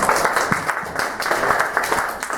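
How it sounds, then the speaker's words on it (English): An MBA class in a human resource management session bursts into brief, dense applause for everyone, a steady patter of many hands heard close without speech. "give a big round of applause to everyone."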